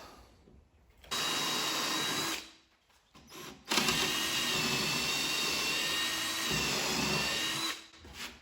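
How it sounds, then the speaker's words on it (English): A power drill pre-drilling holes in wood for lag bolts whines steadily in two long bursts separated by a short pause, close and loud, with a brief stop near the end. "I'll pre-drill for the lags."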